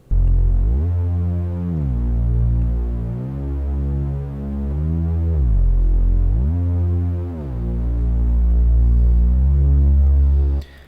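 A subtractive synthesizer patch plays sustained, buzzy low notes with a panning, high-passed delay, gliding between pitches in a steady, loud, throbbing drone with no talk.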